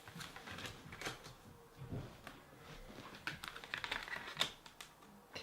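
Tarot cards being shuffled by hand during a reading, a quiet run of soft papery riffles and taps with brisker clicking flutters toward the end, close and low in level with no talking.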